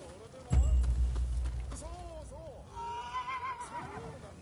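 A horse in Rise of the Ronin, summoned with a horse flute, whinnies in a series of rising and falling neighs after a heavy thud, with hoof-like knocks and a voice talking underneath.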